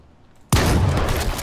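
A sudden loud burst of gunfire in the video game H1Z1 erupts after a quiet moment and keeps roaring, dense and continuous, close and powerful with no voices.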